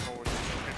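Gunfire in the game Counter-Strike bursts in abruptly after a brief quiet moment and continues as a dense, loud volley, with a commentator's voice faintly underneath.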